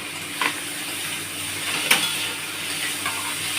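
Chopped banana flower with grated coconut and sugar sautéing in a pan, a soft continuous sizzle with a few faint scrapes of stirring, close and quiet, no talking.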